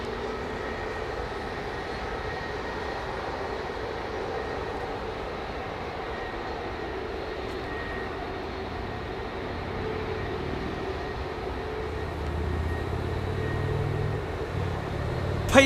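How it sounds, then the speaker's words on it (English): A BEA airliner landing on runway 09R, heard as a steady, moderately loud jet rumble and whine that swells a little louder toward the end, with no talk over it. "Aaron Thomas, BEA landing now."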